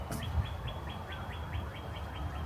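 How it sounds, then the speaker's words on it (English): Repeated high chirping calls of a red-winged blackbird, a regular rhythmic series of short tweets sounding from cattails at a botanical garden in spring, faint over soft outdoor background noise. "You think that's the red-winged blackbird?"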